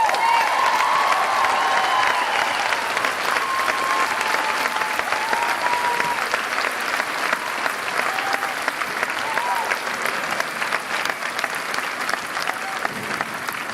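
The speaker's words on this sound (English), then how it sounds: "we just need to give them another accolade, another round of applause" Sustained round of applause from an arts festival audience for a high school symphonic band, dense and steady clapping with scattered cheers and some voices underneath.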